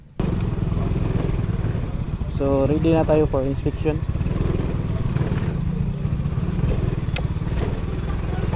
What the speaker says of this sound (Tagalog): Habang patungo ako mag-park sa aking motorsiklo